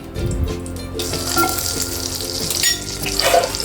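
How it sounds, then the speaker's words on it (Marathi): Butter melts in hot oil over a low flame for chicken korma, giving a steady close sizzle with soft crackles and no speech. "बटर आणि तेल गरम होत आहे"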